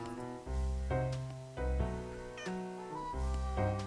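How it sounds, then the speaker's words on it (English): Repeated, drawn-out meows from a grumpy cat in the Nancy Drew: Secret of the Old Clock video game, five or six loud, close calls following one another with no pauses. "Hey cat!"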